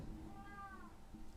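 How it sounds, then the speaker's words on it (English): A pet cat gives one drawn-out meow from across a room, faint and distant over a steady background hum, with no one talking. "don't know if you can hear my cat meowing over there."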